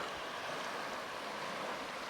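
Steady broadband rush of a river flowing beside a bridge in the Creuse, France, a continuous even wash of moving water heard fairly close with no voices.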